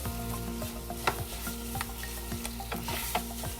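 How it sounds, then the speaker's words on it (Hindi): A spoon or spatula scrapes and stirs a thick cashew and sugar mixture for kaju katli in a pan over a low flame, with rhythmic scraping and a soft sizzle, close and without speech. "इसको कंटिन्यू लो फ्लेम में मिक्स करते रहना है"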